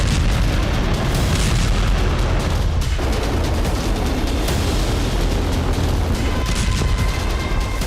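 Russian missile and drone strikes on Ukrainian cities produce continuous heavy booms and rumbling blasts, loud and dense throughout, with a sharp burst near the middle and no voices.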